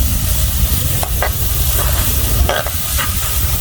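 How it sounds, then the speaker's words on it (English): Onions sautéing in a pan over a controlled flame, stirred continuously: a loud, even sizzle with occasional scraping strokes of the spoon against the pan. "the best way to go about sauteing any form of vegetable or whatever you're using, just continue to stir over a controlled flame"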